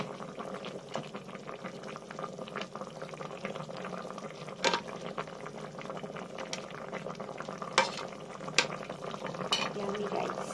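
Squash and okra boiling in a pot, a steady low bubbling and simmering with occasional louder pops and clinks, continuous throughout without talk.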